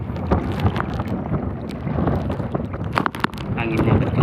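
Strong wind blows across the sea around a small fishing boat hauling nets, a loud continuous rushing and buffeting with scattered knocks and splashes.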